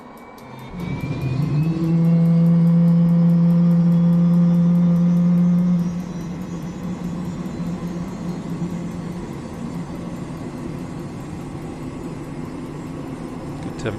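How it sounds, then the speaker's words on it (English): A helicopter engine in a flight simulator game, a Hughes 500C, spools up with a rising whine and a strong low hum that holds, then drops to a steady whirring turbine drone. "the gorgeous sound of the engine starting"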